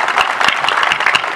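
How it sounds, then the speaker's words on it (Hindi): Loud, dense applause from an audience at a Republic Day 2020 address by the Greater Noida Authority ACEO, a continuous wash of many hands clapping close and full for the whole short stretch. "जाए जोरदार तालियां।"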